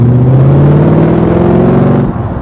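A loud, close Ford V8 engine in an AC Cobra replica revs with a deep throbbing burble that rises in pitch, then cuts off sharply near the end.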